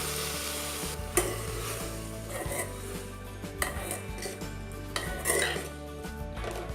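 Sliced tomatoes go into brinjal frying in oil in a pan, with a constant sizzle beneath repeated clanks and scrapes of a utensil stirring against the metal, close and fairly loud.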